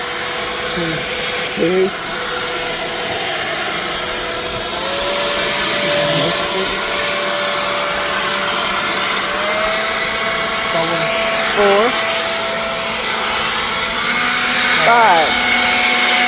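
A Gochifix leaf blower running at low speed on a rug outdoors, steady whirring motor drone with a faint rising whine, moderately loud and close, with people talking briefly over it.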